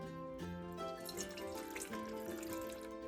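Water poured into a cooking pot holding chicken and diced tomatoes with onion and roasted garlic, a faint, steady splashing trickle with ringing tones as the pot fills.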